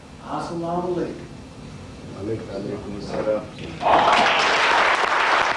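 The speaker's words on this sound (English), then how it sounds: "The applause for Ewing was rapturous" Crowd applause bursts in loudly after a stretch of speech, a dense, steady clapping that fills the last couple of seconds.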